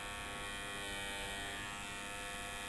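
Electric hair clipper cutting hair over a comb during a haircut, a steady close buzzing hum running without a break and fairly loud throughout.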